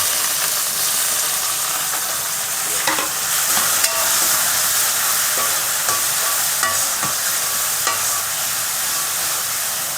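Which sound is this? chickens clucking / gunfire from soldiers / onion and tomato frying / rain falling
onion and tomato frying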